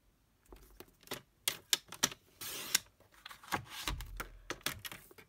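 Whisper white cardstock for a pop-up Christmas card gets trimmed on a paper cutter, a run of close, sharp clicks and clacks with a short scraping slide partway through.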